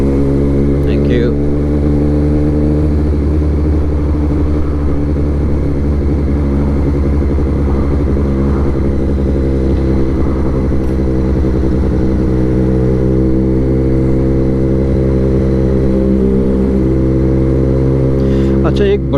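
A Honda CBF 1000 sports tourer motorcycle engine idles and revs close by, a loud steady droning hum throughout while a person talks over it.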